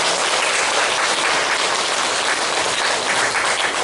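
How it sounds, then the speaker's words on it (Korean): A church congregation at a Sunday service claps in loud, dense, even applause of encouragement, a close wash of many hands sustained for nearly four seconds with no speech. "박수를 부탁드리겠습니다."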